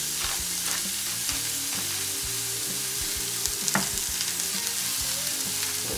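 Burger patties sizzle in a pan with a constant close crackle and spit, over a low periodic hum, with no voices.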